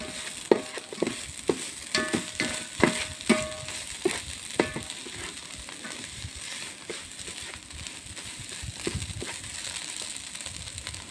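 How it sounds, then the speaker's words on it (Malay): Chicken curry stirred in a wok, with repeated scraping and clattering strokes of the utensil over a low sizzle, strongest in the first half and continuing more softly afterward. "Yang di dasar kuali tu, gaulkannya, okey? Gaulkan dengan sekuat hati, sepenuh hati."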